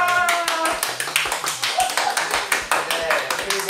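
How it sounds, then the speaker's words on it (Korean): A small group at a queer photography gathering gives a round of applause, steady close clapping with quick irregular beats running throughout, while a voice talks over it. "처음 아이디어를 제시해 주신 문양님한테 우리 다 같이 박수!"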